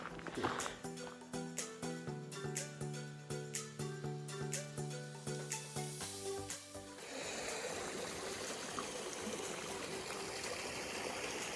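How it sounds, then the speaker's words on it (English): A small stream trickles on a hiking trail at Dawn Mine near Altadena, California; rhythmic clunking and tonal knocks come first, then a steady close wash of running water fills the last few seconds. "we're gonna go over this little stream right here."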